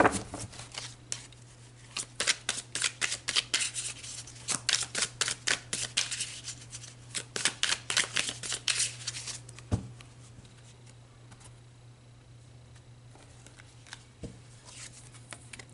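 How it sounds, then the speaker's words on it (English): Oracle cards are shuffled in a rapid run of crisp riffling snaps for several seconds, then go quiet apart from a few soft single card sounds as cards are pulled, all near and fairly quiet. "let's pull some more cards"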